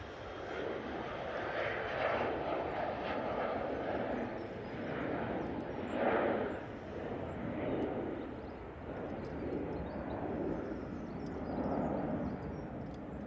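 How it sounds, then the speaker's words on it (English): A British Airways airliner on a shuttle flight to Heathrow at Manchester Airport makes a continuous distant engine roar with gentle swells and dips throughout. "this stunning British Airways that's on a shuttle flight back to Heathrow"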